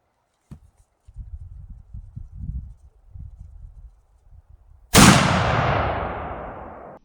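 A single sharp gunshot sends a 100-grain bullet into armour, a loud close blast with a long decaying tail, following several seconds of low, scattered rustling and handling noise.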